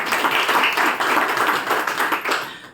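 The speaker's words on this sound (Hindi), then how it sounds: "ताली बजाओ।" An audience at a Brahma Kumaris spiritual class claps together in a dense, continuous patter of applause that fades slightly at the end, with no speech over it.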